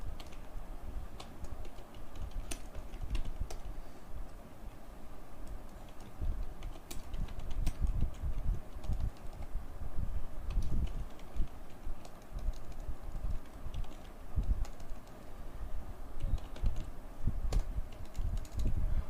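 Steady clicking of a computer keyboard as a return address is typed into a Microsoft Word envelope, continuous light keystrokes at close range with faint background hiss.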